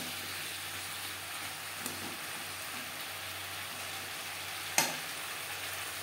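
Flat beans and pumpkin sizzle softly in a pan as they are stirred with salt and turmeric for a vegetarian stir-fry. A steady, gentle frying hiss carries a sharp clatter near the end.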